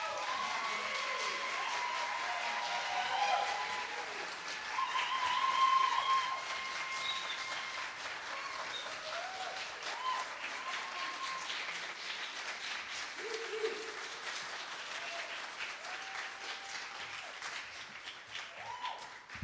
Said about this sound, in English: Keep that round of applause going for Aaliyah, Damani, Laurel, for y'all, for